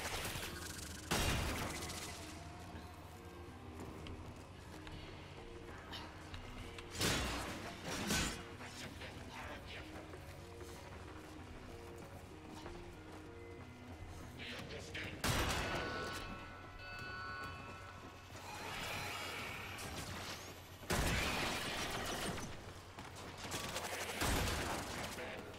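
Gunfire from a weapon in the sci-fi shooter game Warframe, loud bursts arriving in several separated volleys over steady background music and game noise.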